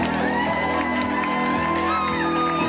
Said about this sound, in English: Let's have a round of applause for Amy Garrell and Rob Chipperfield.